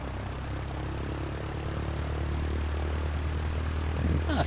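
Steady propeller drone of a Cessna 152 engine in Microsoft Flight Simulator 2020, a constant low hum with a broad hiss above, unbroken and even throughout.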